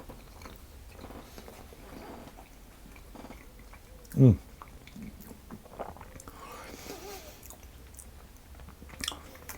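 Someone chews a bite of apple almond tart with raspberry jam and almond filling, giving soft, quiet mouth sounds and faint smacks close to the mic, one louder bite midway. Low background noise fills the rest.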